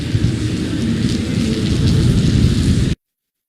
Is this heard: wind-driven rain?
yes